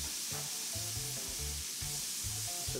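Chopped onion and chiltoma peppers sizzle steadily in a pan of oil and butter, a loud, close, constant crackle with a rhythmic low thumping underneath.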